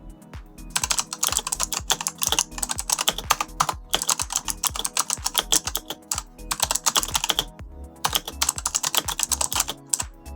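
Fast, continuous typing on a Razer Huntsman Elite gaming keyboard, dense runs of crisp keystrokes in several bursts with brief gaps, close and loud with no talking.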